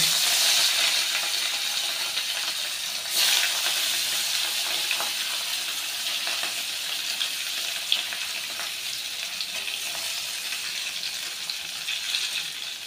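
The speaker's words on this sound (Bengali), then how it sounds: "এবার আমি মাছগুলো ভেজে নেব।" Pieces of rohu fish, rubbed with salt and turmeric, sizzle steadily in hot oil in a pan, a dense continuous hiss with a few light clinks and pops, heard alone without talk.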